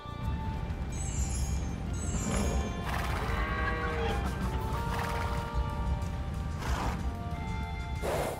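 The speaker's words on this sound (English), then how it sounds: "we are now able to breed the Kamariki horses here. At the stables." Kamariki horses at the stables in Age of Empires II: neighs and whinnies with clopping hooves and clattering over a constant busy game backdrop, repeating in short bursts throughout.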